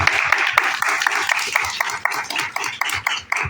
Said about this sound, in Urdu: زوردار تالیاں خدا کے کلام کے لیے۔